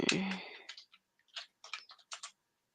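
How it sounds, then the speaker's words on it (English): Computer keyboard keys tapped to enter the city name Easton, Pennsylvania, in a few short clusters of quick clicks, with a brief louder burst at the start and quiet gaps between. "let's punch in that city right here"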